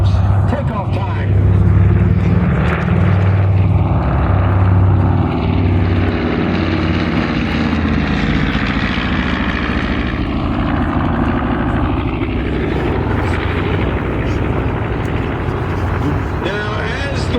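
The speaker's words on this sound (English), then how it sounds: "Here comes takeoff time." A World War II propeller airplane taking off at an airshow event, a loud sustained engine drone and propeller roar that swells and shifts in pitch, heard close and continuous with people talking faintly underneath.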